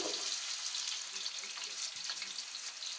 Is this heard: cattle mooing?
no